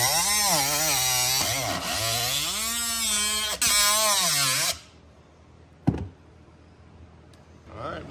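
A power tool whines close and loud while cutting out the intake tube on a CFMOTO CFORCE 400 ATV, its pitch rising and dipping under load before it stops abruptly, followed by a few sharp knocks.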